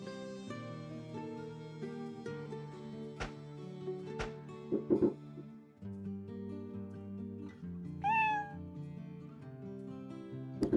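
Hungry cats in the video game BitCraft Online meowing repeatedly over a soft musical background, several distinct meows close and fairly loud, with one rising cry near the end.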